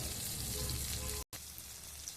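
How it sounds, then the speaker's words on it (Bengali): Small ghusho fish frying in hot mustard oil in a kadai, giving a steady, loud, close crackling sizzle that cuts out for a split second before carrying on. "গরম তেলে আমি ঘুষো মাছ ভেজে নিচ্ছি।"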